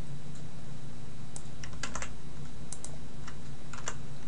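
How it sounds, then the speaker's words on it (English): Someone types a search into a library database on a computer keyboard: scattered clusters of crisp keystrokes with short pauses, close by over a steady low hum, with no talking. "So I could go into my library database and type this."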